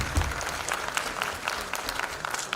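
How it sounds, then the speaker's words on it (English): Loud, steady applause from a symposium audience on seafarers' recruitment and welfare, dense clapping filling the hall without a break. "round loud applause"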